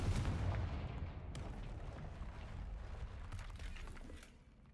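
A Confringo fire spell blasts in Hogwarts Legacy, a sudden booming burst followed by a rumbling crash and scattered debris fading out over a few seconds, with no speech.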